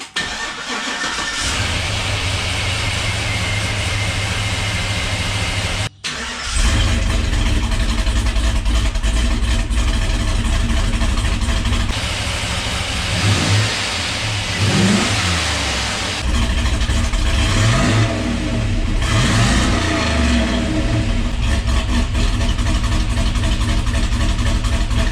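A car with a home-built free-flowing performance exhaust made from scrap cranks and starts after a short pause. It then idles loudly and blips through several rising and falling revs, with a deep exhaust tone and no voices.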